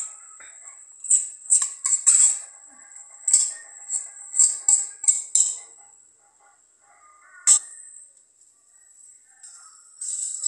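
A utensil stirs cooked rice with mixed vegetables and spices in a pan for pulao, making soft scraping and clinking strokes in irregular bursts with a pause midway.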